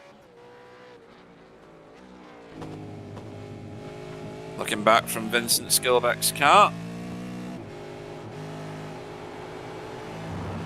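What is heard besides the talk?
race car tyres squealing through corner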